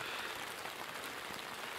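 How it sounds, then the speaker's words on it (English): Heavy rain pours down steadily at a wild camp on a Scottish island, a dense, loud, even hiss of drops with no voices. "As you can tell, it's heavy rain."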